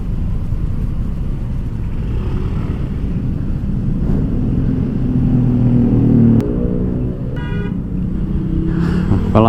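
Dense traffic jam of motorcycles, many of them scooters, on the Jakarta–Jogja road during the post-Lebaran return trip, with a steady loud engine rumble, idling and revving motors and a few short horn toots close by.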